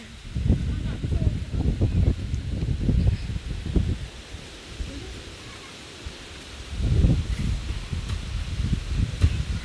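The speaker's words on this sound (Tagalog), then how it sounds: "sobrang malakas yung hangin" Strong wind gusts outdoors, buffeting the microphone and rustling leaves in loud bursts that ease off briefly before surging again, with no clear voices.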